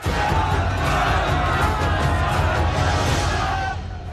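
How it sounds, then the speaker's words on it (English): A huge crowd shouts outside, a dense, loud and continuous roar of many voices that stays steady before easing slightly at the end. "There's a huge crowd outside."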